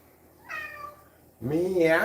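A cat meows twice nearby, a short higher cry followed by a louder, longer drawn-out meow.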